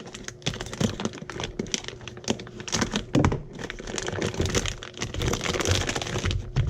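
Filament packaging being cut open, a series of close crinkling, crackling plastic sounds and snips in irregular bursts, with no talking.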